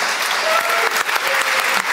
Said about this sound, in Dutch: Ik zou allereerst willen vragen, een warm applaus, Benedict Fiek.